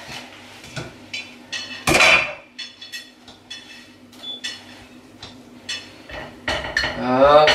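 Scattered clinks and scrapes of a utensil against a plate while dishing up macaroni, with a few louder clatters and a short voice near the end.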